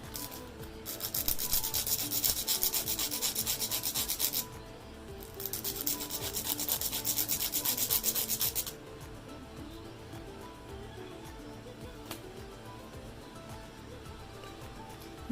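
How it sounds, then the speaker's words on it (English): A nail file rasps up and down across the tip of a fingernail in steady, close strokes, louder for the first several seconds and then softer, with no talking. "So now to file the tip, you just go up and down."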